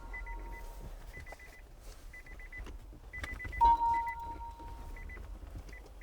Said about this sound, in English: we can hear all of the Nissan Leaf's bings and bongs